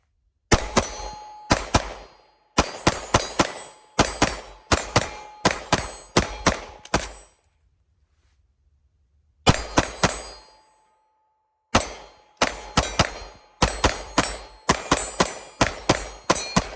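An HK VP9 pistol fired at a shooting range: rapid strings of sharp, loud shots, each with a ringing tail, broken by a short pause partway through before more quick bursts.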